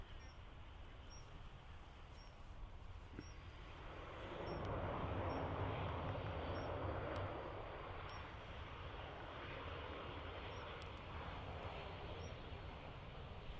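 An airliner at Dublin Airport, a soft distant engine rumble that swells and peaks briefly before settling back to a low steady drone, with faint bird chirps recurring above it.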